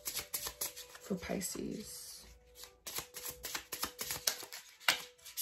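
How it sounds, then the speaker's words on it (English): A deck of tarot cards is shuffled by hand, rapid riffling bursts and soft slaps in a quick irregular rhythm, close up, with someone speaking briefly over it. "I'm gonna shuffle again and then take from the top"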